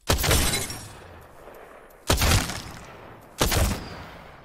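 Three single shots from the Triple Take marksman rifle in the video game Apex Legends, each a sharp loud crack with a short decaying tail, spaced about a second or two apart, with no talk.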